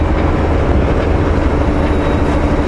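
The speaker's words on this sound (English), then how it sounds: "Okay, Jake brakes on." Heavy truck descending the Sunday Summit grade toward Manning Park with its Jake engine brake engaged, a loud, steady, low rumbling drone that holds without letup from start to end.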